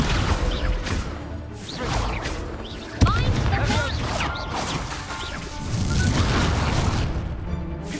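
Repeated Incendio fire spell blasts crack and boom through a hectic Hogwarts Legacy duel, with a sharp impact standing out amid other spell clashes while someone shouts spell names throughout.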